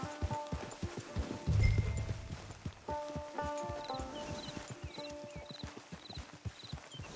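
Horse hooves clop at a walking pace in Red Dead Redemption 2 online, close and rhythmic, with a louder thump early on and soft tonal game sounds in the background.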